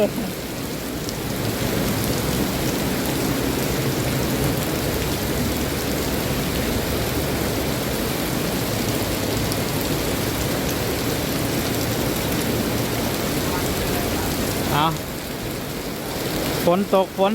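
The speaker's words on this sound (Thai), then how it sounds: "ฝนตกหนัก" Heavy rain pours down steadily in a dense, continuous hiss, loud and close, with a few brief knocks near the end.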